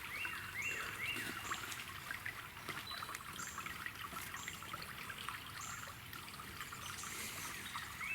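Creek water trickles softly and steadily across a wooded streambed, a faint continuous gurgle with light bird calls above it.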